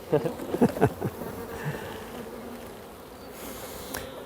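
Honeybees buzz around a hive in a soft, continuous hum, punctuated by a few louder close wingbeat bursts near the start.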